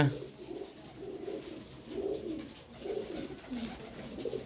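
Pigeons coo repeatedly in a breeding loft, soft low rolling calls rising and falling in a steady rhythm over a faint background hum, fairly close and moderately quiet.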